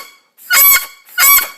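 A bagpipe reed, an older one, sounds after adjustment with a reed poker, giving two loud, bright, reedy blasts, each about a third of a second long with a short gap between them, close and alone.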